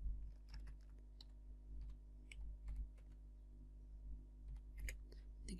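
Fairly soft typing on a computer keyboard while building a free WordPress website, with scattered key clicks in short bursts and pauses over a steady low hum.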